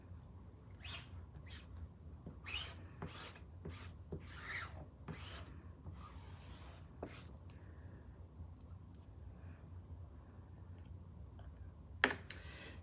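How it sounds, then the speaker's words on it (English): Excess chalk paste being scraped off a stencil on a sign, with a series of short, dry rasping strokes, faint and close, coming in an irregular rhythm with quieter gaps between them. "And just scrape up all that excess."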